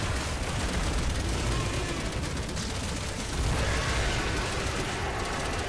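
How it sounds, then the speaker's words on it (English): Dense, continuous rapid gunfire in the video game Resident Evil 6, a sustained rattle of shots and bursts filling the whole stretch with no voices. "I saw the gunfire from him."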